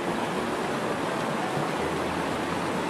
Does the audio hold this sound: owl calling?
no